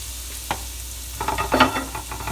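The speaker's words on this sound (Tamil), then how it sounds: "இந்த சமயத்தில் பெருங்காயத்தூள் போடுறேன்." Asafoetida powder goes into hot oil with browned chana dal for lemon rice, giving a soft sizzle that flares up briefly with a few crackling pops, close and fairly quiet.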